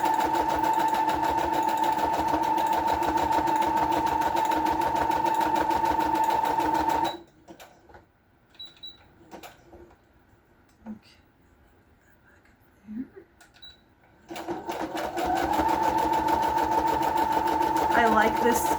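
A sewing machine sewing a modified zigzag decorative stitch at length 2.5 and width 5, a fast steady close whir that stops for several seconds of quiet handling and soft whispery sounds, then starts up again.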